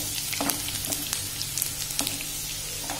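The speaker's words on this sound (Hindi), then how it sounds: "थोड़े कड़ी पत्ते हैं, इन सबको अच्छी तरह दो मिनट तक फ्राई कीजिए।" Curry leaves and garlic frying in hot oil for a dal tadka, a steady soft sizzle with scattered crackles and pops throughout, close and moderately quiet, with no talking.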